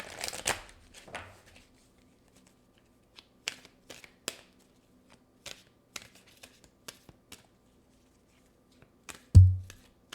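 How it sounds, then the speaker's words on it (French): Sphinx of Delft oracle cards shuffled by hand: scattered crisp flicks and short riffles with quiet gaps between them, ending with a soft thump. "Je vais aller prendre une carte oracle du Sphinx de Delft."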